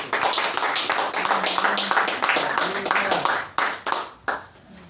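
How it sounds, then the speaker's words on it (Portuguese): A church congregation claps for Christ, a loud, rhythmic burst of many hands near at hand with voices mixed in, thinning into a few separate claps near the end. "Uma salva de palmas para Cristo."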